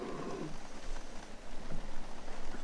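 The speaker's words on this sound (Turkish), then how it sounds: "Bayağı yağmur yağıyor." Heavy spring rain at a caravan campsite, a dense steady hiss of falling drops heard up close and continuously, with no voices.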